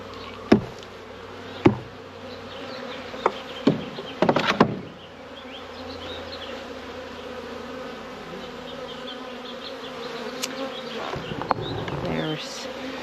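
Honeybees buzz in a steady, close drone during the season's first hive check in late February, broken early on by several sharp knocks and taps from handling the hive.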